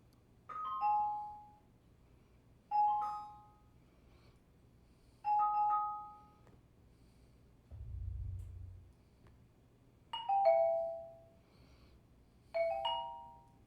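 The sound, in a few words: AV receiver 5.1 surround speaker test tones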